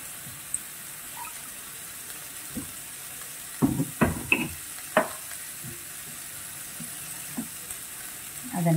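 Crab soup simmers on a stovetop while a spoon stirs it, a quiet steady bubbling bed broken by a cluster of sharp close clinks and scrapes of utensil against pot, with a few scattered knocks.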